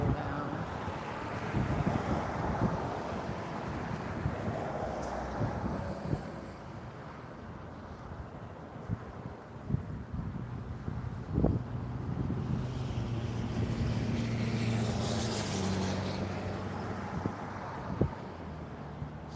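Steady gusting wind roars across the microphone outdoors at Myrtle Beach International Airport, broad and rushing throughout with a few faint knocks and a distant low hum.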